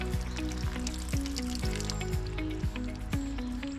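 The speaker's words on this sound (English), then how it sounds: "Yep, that's water." Water drips and trickles from a 2010 Peterbilt 387 truck engine after the starter is removed, a run of irregular wet splats and plinks over a continuous liquid patter in a workshop.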